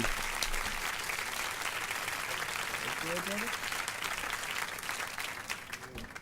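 Applause from a studio audience greeting a guest on a radio show, a steady broadband patter of many hands that stays loud and dense throughout, with faint music and brief voices underneath toward the end.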